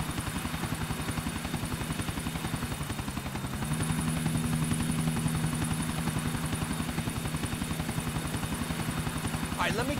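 A helicopter in the video game GTA 4 drones with steady rapid rotor chopping throughout, loud and close, while voices talk over it.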